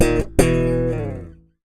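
An electric bass sounds a sustained double stop, broken by a short muted thump as the thumb bounces onto a dead note. The chord rings again and then decays to silence.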